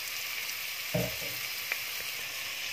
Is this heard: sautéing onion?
yes